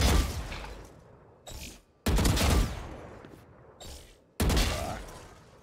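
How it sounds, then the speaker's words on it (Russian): Gunshots in the video game VALORANT, three loud, sharp separate shots with short mechanical clicks between them, each shot ringing out and fading, with no talk. "Тут, в принципе, только выстрелы громкие."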